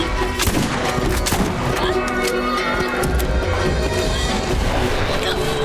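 Borderlands Remastered gameplay fills the clip with dense, continuous gunfire and grenade blasts, loud and busy from start to finish. A player talks over the action.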